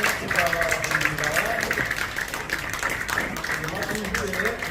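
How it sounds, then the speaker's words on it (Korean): Applause ripples through the audience at a Korean Presbyterian church award ceremony, steady clapping that sits under an announcer's ongoing speech for several seconds. "모두 박수로 축하해 주시기 바랍니다"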